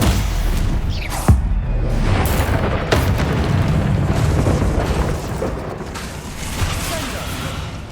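Bombarda blasting spell in Hogwarts Legacy, heard as deep booming explosions with sharp cracks and a rumbling tail over steady game noise, close and loud.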